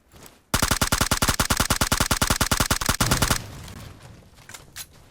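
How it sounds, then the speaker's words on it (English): Rapid automatic gunfire from an M249 in the mobile game PUBG Mobile, a loud sustained burst of about three seconds that cuts off into a low rumbling aftermath and faint scattered noise. "That was an awful big explosion right there."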